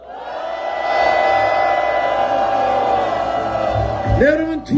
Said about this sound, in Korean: 함성 3초간 시작.